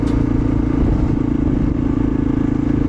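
A Kawasaki KLR650 single-cylinder motorcycle fitted with a Delkevic performance exhaust idles close by with a loud, steady thumping burble and a rhythmic, even pulse that continues unbroken throughout.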